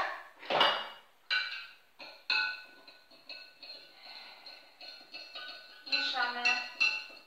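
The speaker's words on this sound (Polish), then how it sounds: "I teraz znowu solę jedną łyżkę." A spoon clinks against a pot and jar as a spoonful of salt goes into a beet sourdough ferment, giving several close, ringing metallic taps and scrapes in an uneven sequence with brief pauses.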